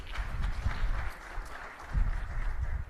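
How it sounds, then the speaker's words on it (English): Applause from a large audience at an investment summit as a minister is introduced, a steady crowd clapping mixed with low rumble and murmur of the hall. "can we have a round of applause, please?"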